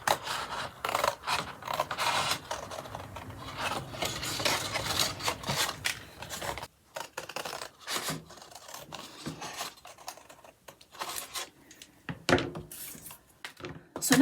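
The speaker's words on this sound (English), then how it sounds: "So I've cut out to my 4 corners, and now I can cut round" Scissors cutting around a window in paper for a pop-up book, with intermittent close crisp snips and rasping paper rubs in irregular bursts, some quiet pauses between cuts.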